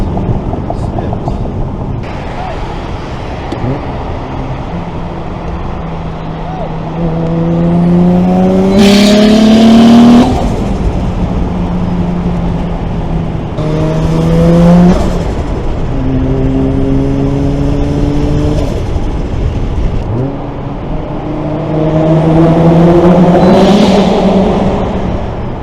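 A Toyota JZX100 accelerates hard through three rising pulls, its engine note climbing and briefly flaring as the slipping 4th gear lets revs jump, with steady road and cabin noise between pulls.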